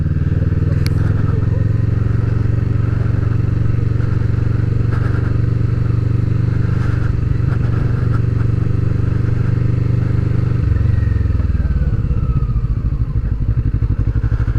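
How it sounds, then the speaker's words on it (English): A 2020 Kawasaki Vulcan S 650cc cruiser motorcycle on a test ride gives a loud, continuous low engine drone with wind rush. The engine note shifts about two-thirds of the way through. "This is only a 650cc bike and emits the same sort of power as those."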